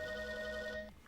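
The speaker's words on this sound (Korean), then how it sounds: "카밀라의 전화가 울립니다" A mobile phone rings with one steady electronic tone for about a second and then cuts off, fairly quiet, with no voices.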